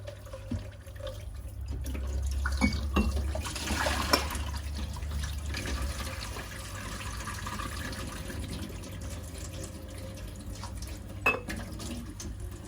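A glass jar is washed under running water, with a steady tap stream, sloshing and occasional clinks of glass at close range and no talk.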